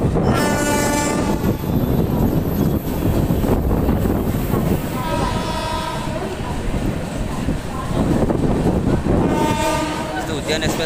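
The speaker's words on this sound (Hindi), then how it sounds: "एक्सप्रेस का थाने स्टेशन स्टॉप नहीं दिया गया है, इसलिए वो निकल रही है।" An express train runs through a railway station without stopping, a loud, continuous roar of rolling wagons with rhythmic clatter and repeated horn blasts, close by, with voices faintly mixed in.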